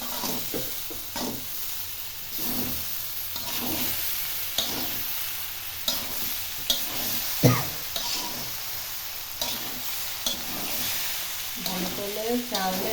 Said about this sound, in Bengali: মাংসটা গোস্তটা আর বিরিয়ানিটা আমরা পোলাওটা আমরা একসাথে মিশিয়ে দিই ভালো করে